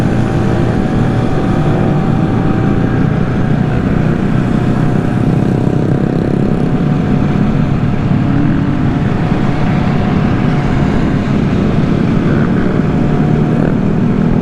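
A mini bike engine revs loudly and continuously as riders do wheelies on a street, a steady buzzing drone that holds without pause and has no talk over it.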